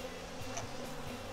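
Agitated, defensive honey bees buzz around their hive close by, a steady droning hum with short rises as individual bees pass.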